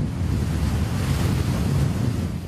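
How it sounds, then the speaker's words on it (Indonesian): Big waves and strong wind on the north coast of Sumenep, East Java, a loud continuous roar of surf with heavy wind buffeting the microphone, no voices. "Ombak besar disertai angin kencang membuat aktivitas nelayan di pesisir utara Kabupaten Sumeneb lumpuh."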